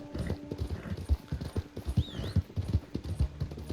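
Horse hooves clip-clop steadily up close in Red Dead Redemption 2, a quick irregular run of hits with a faint whinny-like call partway through.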